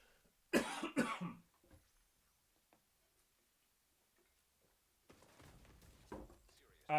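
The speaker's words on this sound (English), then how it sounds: "I'm like about to have a coughing fit, but I don't want to." A person coughs twice in quick loud bursts near the start, then a quiet stretch with faint ticking, followed by speech.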